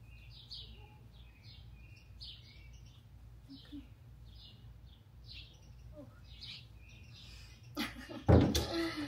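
A pet bird chirps in short repeated tweets at a regular pace over a low engine hum inside a car, ending with a loud rustling thump.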